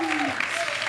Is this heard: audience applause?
yes